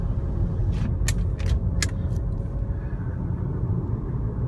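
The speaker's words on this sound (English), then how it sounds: "The only thing I hear is the tires on the road." Tire roar on the road from inside a 2012 Chevrolet Volt with the windows up, a steady low rumble throughout with a few brief higher hisses early on and no talking.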